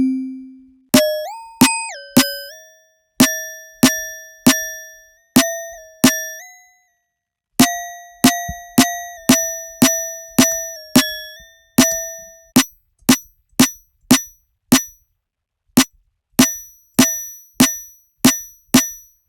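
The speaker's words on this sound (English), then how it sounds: "you can like incorporate a bell sort of a sound in" Metallic, bell-like snare hits from the Ableton Corpus resonator plugin, struck in a sharp, evenly spaced rhythmic pattern with pitched ringing tails, some hits sliding in pitch, clean and close with no talk.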